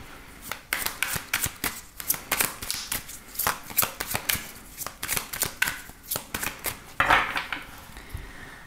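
A deck of tarot cards is shuffled by hand in a quick series of crisp, rustling riffles and slaps, close and fairly loud, repeating in an uneven rhythm with no talking.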